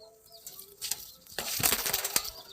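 A pigeon flaps its wings in a couple of quick, rustling bursts close by while being caught and put into a cage at night, with clattering handling noise and no talking.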